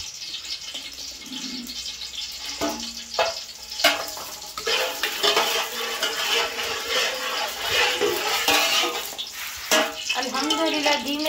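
Congealed ghee heats in a pot in a village kitchen while a spoon stirs it, giving a continuous sizzle with irregular clinks and scrapes, and a voice speaks intermittently over it.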